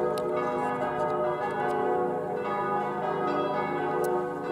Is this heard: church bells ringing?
yes